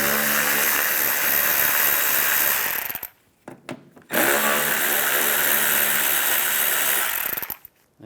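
Power tool with a T20 socket whirring steadily while backing out fender liner screws on a 2011-2015 Chevrolet Cruze, loud and close in two long runs split by a short pause, with no talking.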